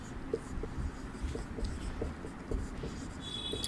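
Handwriting during a Sanskrit class lesson, soft repeated scratches of a pen or chalk stroking at a steady pace, close and faint over a low room hum.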